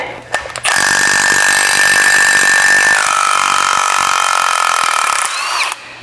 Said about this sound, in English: take the 6 bolts that hold the rotor on out